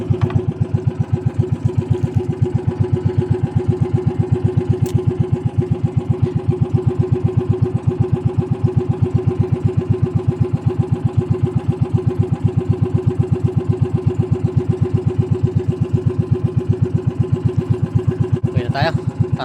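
Small fishing boat's engine running steadily at sea, a loud, even mechanical drone with a rapid regular pulse that holds through the whole stretch, close by, with no talk over it.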